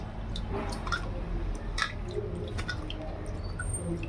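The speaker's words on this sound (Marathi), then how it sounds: "स्वच्छ पाण्याने असं भगराला चोळू धुवून घ्यायचं आहे." Wet squishing and soft splashing as bhagar (barnyard millet) is rubbed by hand in clean water, a steady close-up churning with small drips throughout.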